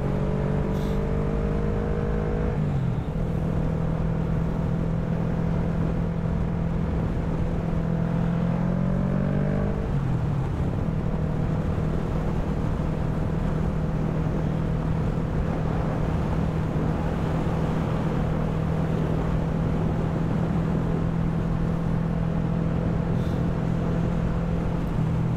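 A motorcycle fitted with a sport pack rides along the road, its engine droning steadily close to the microphone with two brief pitch shifts as it changes speed, under constant wind rush and no talking.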